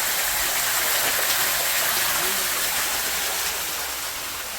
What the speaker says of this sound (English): Got a little waterfall here.